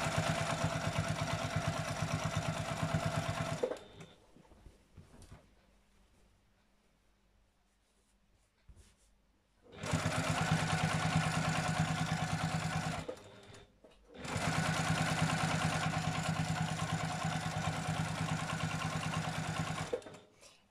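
A sewing machine stitching a fabric chair cover runs in three long, steady, loud bursts of rapid mechanical whirring, separated by brief quiet pauses with faint handling of the fabric.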